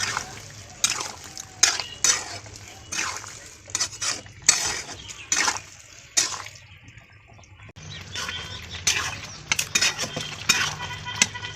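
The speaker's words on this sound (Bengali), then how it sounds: "এবার নেড়ে নেবো আবার" Soybean curry stirred in a pan with garam masala, a spoon scraping and clinking against the metal in repeated strokes, fairly close and clear with no talk.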